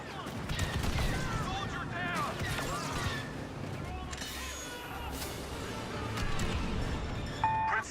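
Battle gunfire rattles in bursts at middle distance beneath shouted voices, with crashes and a dense layer of combat noise throughout.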